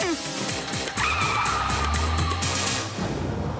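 A cartoon car skids with a sharp tire squeal, racing engine whine and revving in an animated series, loud and close, with a voice talking briefly underneath.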